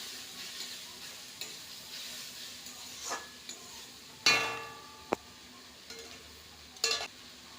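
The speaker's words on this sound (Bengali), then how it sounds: "এবার নাড়াচাড়া করে একটু মিশিয়ে নেব" A spoon stirs powdered fried fish head into an ash gourd curry, giving scattered scrapes and clinks of varying strength against a faint low sizzle, with no talking.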